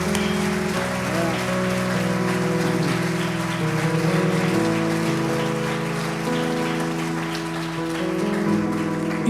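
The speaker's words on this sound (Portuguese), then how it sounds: "Aplauda o Senhor." A church congregation applauds in a steady, dense wash of clapping during an evening service, with sustained keyboard or organ music playing throughout.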